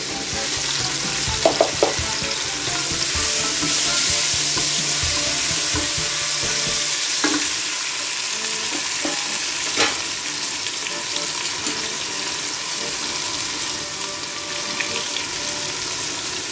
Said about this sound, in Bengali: করলা ভাজি করব। এখানে পেঁয়াজ আর লবণ দিয়েছি